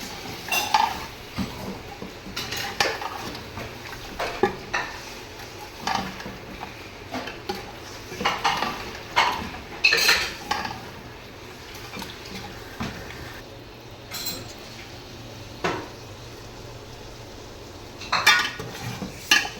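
A spoon scrapes and clinks against a pot while chicken biryani is stirred and mixed, giving irregular metallic knocks and scrapes over a soft background hiss, moderately close.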